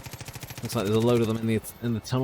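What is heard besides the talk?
MP5K submachine gun firing in Far Cry 5 video game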